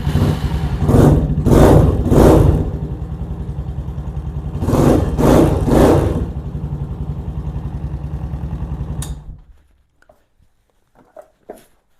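A Venom Ghost Chopper 250 motorcycle engine runs close by, rising in three quick revs, settling into a steady idle, revving twice more, then shutting off at about nine seconds, leaving near silence with a few faint clicks.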